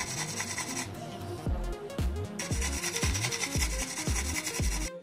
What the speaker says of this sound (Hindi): अब ये सैंडविच बहुत बढ़िया क्रिस्पी सिका है, ये देखिए मैं इसकी आवाज़ सुनाती हूँ आपको